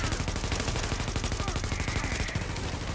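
Rapid automatic fire from a heavy-recoil machine gun in Tom Clancy's The Division, a dense, steady stream of close, loud shots lasting the whole stretch with no pauses.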